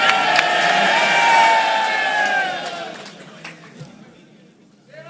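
Large crowd at a Lahore political rally roaring and cheering in a loud sustained swell, fading after about three seconds into scattered shouts and murmurs.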